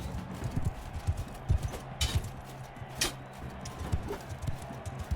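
Horse hooves clip-clopping in the medieval combat game Bannerlord, quick irregular thuds at close range with a few sharper impacts mixed in.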